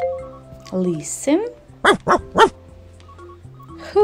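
Three quick dog barks ring out clearly in a row after a short spoken word, with a faint background hum.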